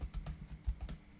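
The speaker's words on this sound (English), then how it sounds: "First we have to enter nums1 and nums2 from the keyboard." Quiet, close computer keyboard typing, a handful of soft irregular keystrokes spread over about a second with no voices.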